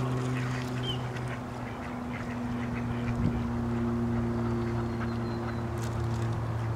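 Ducks quacking at a park pond during feeding, scattered calls over a constant low steady hum and outdoor background, moderately close with no talk.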